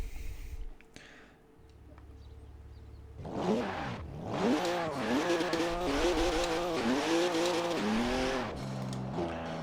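A BMW Z4 with a V10 engine swap in Forza Horizon 4 revs hard and loud, rising and falling in repeated pitch sweeps with tire squeal, after a quieter idling start.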